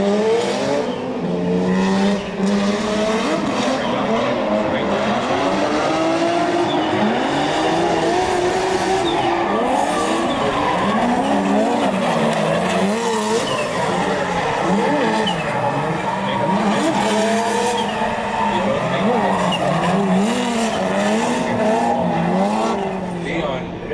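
Race cars circle a banked oval during pro-am seeding, engines roaring continuously with rising and falling pitch as cars pass, loud and steady throughout with a voice talking over them.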